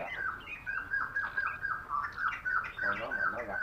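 A pet bird sings a steady run of bright chirps and warbled tweets, close and fairly loud, continuing through the whole stretch with slight background noise.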